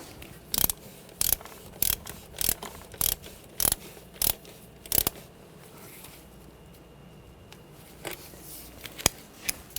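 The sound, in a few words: tightening starter cable nut on BMW 328i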